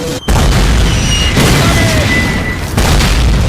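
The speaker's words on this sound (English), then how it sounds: "Mortars incoming!" Mortar explosions in Call of Duty roar as loud, continuous booms, with successive blasts rolling into one another close by.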